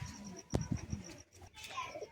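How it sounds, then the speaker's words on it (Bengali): Pair of white-headed pigeons cooing close by, a few soft throaty coos in quick succession with faint chirps, and a voice speaking briefly nearby. "দেখুন একটি মুন্ডু সাদার জোড়া দেখাচ্ছি"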